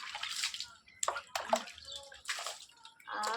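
Water sloshes and splashes in irregular bursts as someone bathes while seated, pouring tank water warmed by the sun over themselves, with a voice briefly heard between the splashes.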